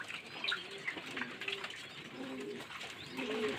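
Pigeons cooing softly in a loft during hot weather, low repeated coos drifting under faint background chirps and rustling, no one speaking.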